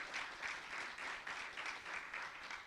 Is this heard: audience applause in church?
yes